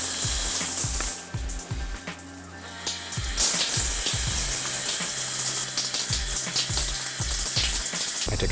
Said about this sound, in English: she goes to go turn on the water